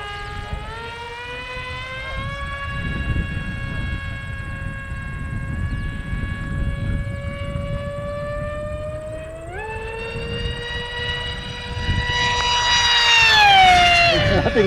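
A BadAss 2826-1360KV brushless motor with a propeller hums and whines steadily, stepping up in pitch partway through and surging louder toward the end, with faint talk in the background.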